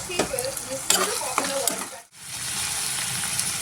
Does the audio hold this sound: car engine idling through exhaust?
no